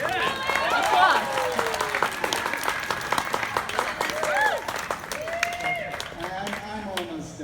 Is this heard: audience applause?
yes